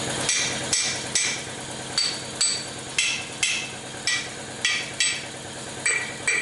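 A tailhousing bushing on a 4R70W automatic transmission is struck with a hammer to widen it. Sharp metallic blows land close and loud, about a dozen of them at a steady, slightly uneven pace, with no talking.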